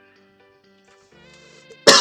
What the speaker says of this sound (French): je suis désolé si je tousse pendant la vidéo